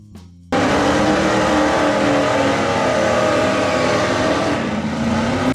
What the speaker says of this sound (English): Number 4. the 1969 Ford Mustang Boss 429.